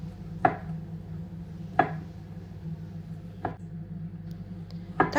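A knife slicing sausages into rings chops down on a cutting board a few times, sharp isolated knocks spaced about a second or more apart over a steady background hum.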